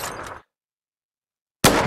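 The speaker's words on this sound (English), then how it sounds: "Oh, the sniper works really well." Two sniper rifle shots in the Roblox FPS game, each a loud, sharp burst, separated by over a second of complete silence.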